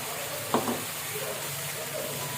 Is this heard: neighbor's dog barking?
no